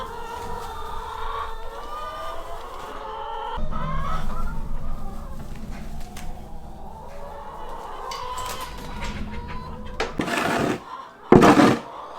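Farm chickens cluck and murmur in their pen, a scatter of soft, close calls with shuffling underneath, then a couple of sharper, louder squawks near the end.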